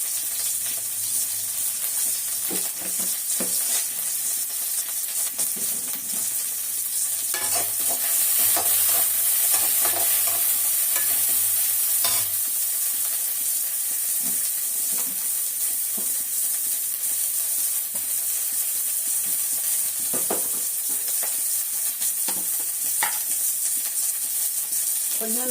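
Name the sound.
sautéing curry leaves and pepper in a pan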